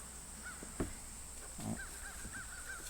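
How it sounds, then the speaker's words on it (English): A bird calls outdoors at a small-town New Hampshire flea market, giving a few short, high, raspy caws spaced over a couple of seconds at moderate distance, with other outdoor noise and thumps around it. "That sounds like a hawk or a. Yeah, that's pretty high. That's probably a hawk or a raven"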